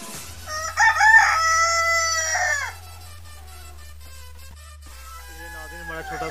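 A rooster crows loudly and close on a small poultry farm, one long drawn-out call followed by softer clucking and calls from chickens around a low steady hum.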